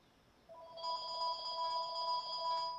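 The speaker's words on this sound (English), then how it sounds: "Telephone." An old 1920s-style telephone bell rings alone after a half-second of quiet, a steady electric trill that holds at moderate loudness for over two seconds.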